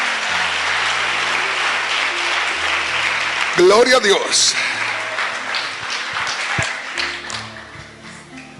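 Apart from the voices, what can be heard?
congregation applause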